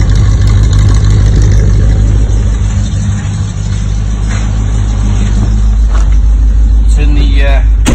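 Classic MG BGT engine running loud and close on a drive, a steady low drone with light revving, and people talking over it.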